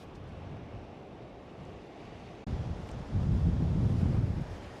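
Strong wind buffets a microphone on a coastal cliff edge, a rushing roar that swells into heavier low gusts in the second half.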